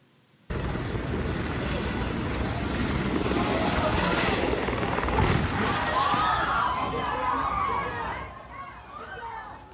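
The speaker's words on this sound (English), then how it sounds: "a helicopter crashed outside a restaurant" A privately owned helicopter crashes on an empty lot beside a restaurant, a loud continuous rotor roar and rumbling impact that fades into splashing and crowd noise as people talk.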